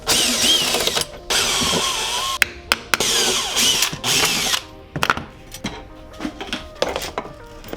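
A power drill removes screws from a homemade nail launcher build, sounding in repeated short whirring bursts with brief pauses between them, close and fairly loud, with faint mechanical clicks and no talking.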